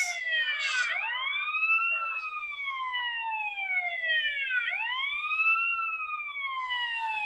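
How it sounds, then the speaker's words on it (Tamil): A wailing ambulance siren from the video game GTA San Andreas sweeps repeatedly up and down in long electronic glides, clear and steady with no speech over it. "பறக்கும் ஆம்புலன்ஸ்."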